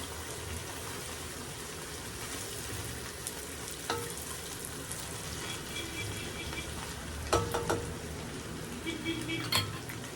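Onions fry in a pan for chicken biryani, with a continuous moderate sizzle and occasional clinks of a utensil against the pan.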